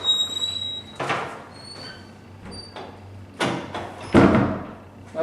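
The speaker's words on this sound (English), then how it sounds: "We're going to test the door out." Door swinging shut under a hydraulic 316 RAL door closer: slow movement with faint squeaks and soft thumps spread over several seconds, then a firmer latching thud near the end, close by.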